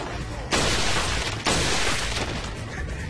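Gunfire in Resident Evil 4 Mercenaries comes as two loud, sharp blasts about a second apart, each followed by a ringing, noisy decay.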